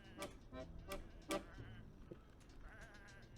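Sheep bleating in the video game Whateverland, several short bleats in an irregular series, fairly close and distinct, with a faint mechanical ticking underneath.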